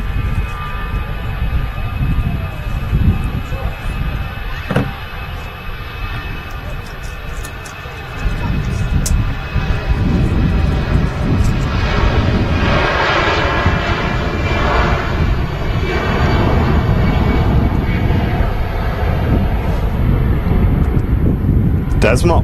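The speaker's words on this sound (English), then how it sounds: "Finnair now lined up and ready to go" Finnair airliner taking off at Manchester Airport, a loud jet roar that swells after a quieter start, with a few sharp knocks, wind buffeting and some talk mixed in.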